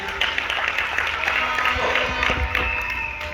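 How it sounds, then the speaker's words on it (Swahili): An audience at a business conference applauds steadily, a dense patter of clapping hands at moderate distance, with a voice talking over it. "Big round of applause"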